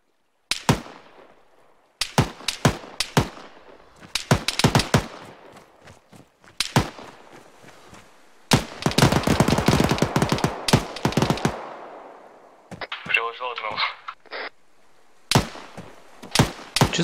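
Kalashnikov rifle fire in ARMA 3, heard as repeated sharp cracks in short bursts and one sustained automatic volley, loud and close with reverberant tails, plus a brief electronic chirp between bursts.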